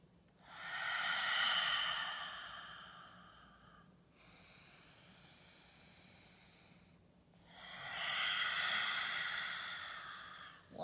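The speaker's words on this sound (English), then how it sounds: "3 juicy, big cleansing breaths in through the nose" Two long, deep breaths drawn in through the nose, each a loud, airy sniffing rush that swells and fades, separated by a softer, steady exhale in a quiet room.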